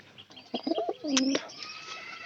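Pigeons coo close by in a few soft, throaty bursts, with a brief chirp among them over a quiet background.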